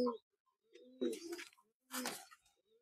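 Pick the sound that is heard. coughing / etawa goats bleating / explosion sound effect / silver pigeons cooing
silver pigeons cooing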